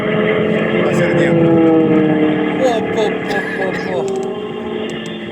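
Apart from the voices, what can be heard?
Moki 150 cc engine of giant RC F4U Corsair plane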